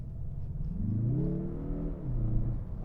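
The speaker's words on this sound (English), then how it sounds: "whoa, it just accelerates." A 2024 Mazda 3 hatchback, Sport Suna Edition, accelerates with a steady engine note that climbs in pitch, dips briefly as it shifts, then rises again, heard from close by inside the car.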